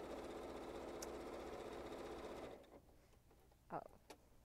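A sewing machine stitches a fabric reversible placemat with a steady, close mechanical whir for about two and a half seconds, then stops, leaving quiet handling noises and a brief voice.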